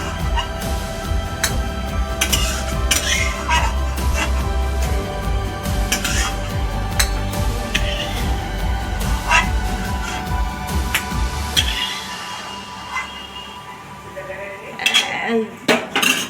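A metal ladle scrapes and clinks in a pan, lifting out fried tempering spices for a Bengali thankuni-leaf lentil dal; repeated close utensil knocks and scrapes run over a low stove hum that cuts out near the end.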